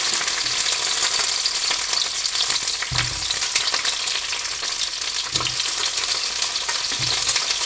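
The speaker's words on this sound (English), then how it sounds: "they're spattering because they're a bit wet actually" Wet tomatoes frying on high heat in hot oil, a loud, constant spattering crackle with a few dull low thumps of stirring, close up and without speech.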